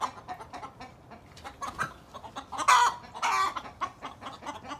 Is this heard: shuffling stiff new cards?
no